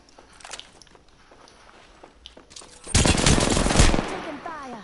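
Gunfire in a PS4 shooter: scattered faint shots early, then a loud, dense automatic burst erupts near the three-second mark and rattles for about a second before fading out.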